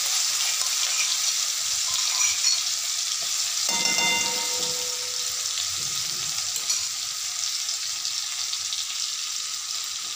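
Cumin seeds and ginger-chili paste frying in a pan for a broccoli sabji, a dense, steady close sizzle with a brief burst of stirring scrapes partway through, no voices.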